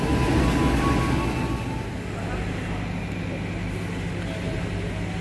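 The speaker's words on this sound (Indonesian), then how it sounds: "Lokomotifnya dilansir nih." A 1938 vintage train locomotive is shunted, giving a steady low mechanical rumble and broad rolling noise that stays loud throughout, slightly heavier at the start.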